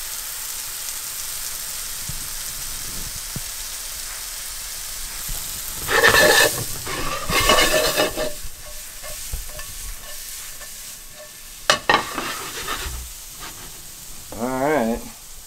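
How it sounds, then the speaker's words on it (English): Shallots sweat in a pan with a steady low sizzle, while a utensil stirs and scrapes through them in several bursts, close and fairly loud. "Gonna sweat them shallots down. The more you cook them, the sweeter they'll get."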